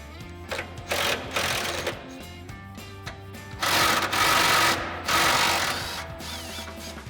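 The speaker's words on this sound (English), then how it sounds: "we'll grab our 13mm socket and extension on our impact and go ahead and get those off" An impact wrench with a 13mm socket and extension removes exhaust hanger bolts above the mufflers of a Dodge Challenger, several loud rattling bursts separated by brief pauses.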